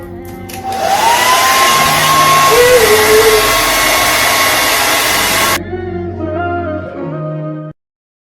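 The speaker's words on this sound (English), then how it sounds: "I like to take the blow dryer on the cool setting" A hair dryer on the cool setting blows steadily and loudly with a whooshing airflow hum, then the pitch drops as it shifts to a lower setting before cutting off.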